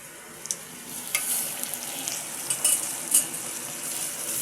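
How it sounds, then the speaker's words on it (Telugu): Onions and green chillies frying in oil in a pan for a Telugu amaranth-leaf (thotakura) curry, with a steady close sizzle and a few sharp scraping stirs or utensil clicks. No one speaks. "ఉల్లిగడ్డలు మిరపకాయలు మంచిగా గోలాలి."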